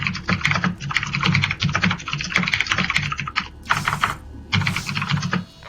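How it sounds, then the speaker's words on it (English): Fast, furious typing on a computer keyboard during a PC game session: dense, close key clicks in rapid bursts with brief pauses, clear and without talk. "Down to furious typing."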